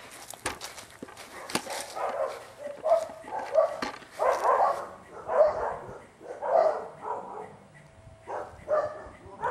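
Repeated dog barks in a video game, in quick bursts, fairly close, with a few yips mixed in and some shuffling footsteps underneath.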